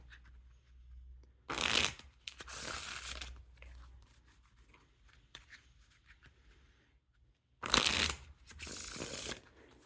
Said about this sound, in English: the riffle shuffles or bridge shuffles. Super smooth. Nice and crisp.